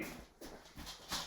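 A dog whimpers in a few short, soft whines spaced across a quiet moment, faint and close.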